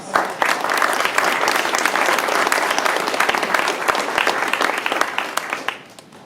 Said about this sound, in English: if I can give this panel a round of applause